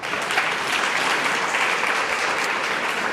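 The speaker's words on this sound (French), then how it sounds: "Je vous propose d'applaudir nos intervenants." An audience at a round-table discussion on renovation and the RE2020 standard applauds the panel speakers, steady close clapping held evenly throughout without talk.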